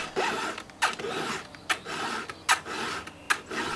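A saw chain is sharpened with a square file in repeated rasping strokes, roughly one every 0.8 seconds, each a close, gritty metallic scrape with short pauses between, and no talking.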